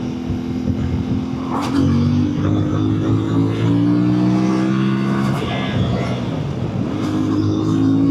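A CF Moto MT 450 motorcycle engine revs and pulls through gear changes while riding, rising and falling in pitch, loud and close, with wind noise and brief voices in the background.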